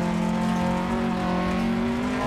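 Rally car engine in the video game Dirt Rally 2.0 holding a high, steady roar at full throttle, with a continuous strained tone and faint tyre noise, close and loud.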